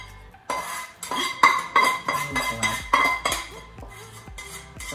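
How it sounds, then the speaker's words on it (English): Dishes, pots and cutlery clatter into a kitchen sink during summer ratatouille cooking, a run of close, loud clanks and clinks in irregular bursts with no talking. "I'm just loading up all my dishes in the sink."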